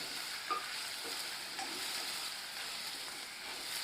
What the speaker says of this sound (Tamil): அந்த எலும்பை அப்புறம் இந்த மாதிரி போட்டு வதக்குவாங்க